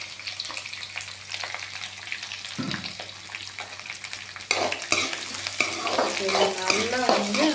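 Green chillies frying in hot oil in a pan for a tri-colour dosa filling with potatoes, a steady sizzle and stirring that grows louder and busier in the second half.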